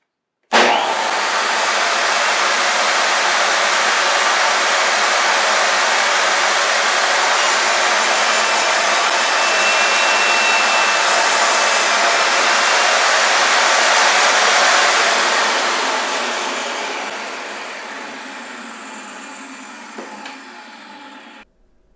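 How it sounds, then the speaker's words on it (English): RIDGID table saw motor starting up and running at full speed: a loud, steady broadband whir that holds for about fifteen seconds, then winds down and fades as it coasts to a stop, with no speech. "make sure you let your motor come up to full speed before you do any cutting whatsoever"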